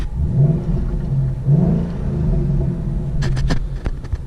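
A 2011 Ford Mustang GT 5.0 with a possible Roush-style muffler, its engine rumbling deep and close with a couple of rising revs, then a few sharp clicks near the end.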